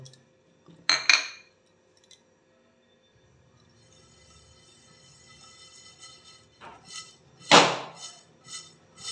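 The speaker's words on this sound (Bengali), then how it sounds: "ওই একই প্যানে আমি মৌরিটাকে একটু হালকা রোস্ট করে নেব" Fennel seeds lightly roasting in a pan: two sharp metallic clinks of a utensil against the pan, one early and one late, with a soft, steady rattling stir building in between.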